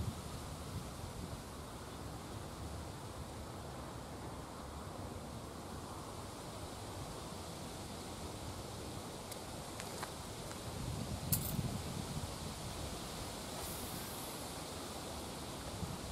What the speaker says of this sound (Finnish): Mut sit kun tullaan tänne, niin täällähän tuulee aika lailla.